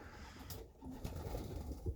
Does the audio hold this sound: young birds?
yes